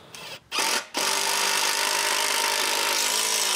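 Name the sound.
screwing 4x4 wood lengths onto dock supports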